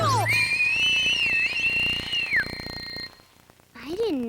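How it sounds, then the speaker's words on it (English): A loud, sustained whistle blows for over two seconds with a slight wavering pitch, over background voices, then a shorter sliding whistle follows after a brief pause. "I didn't know you could whistle that loud"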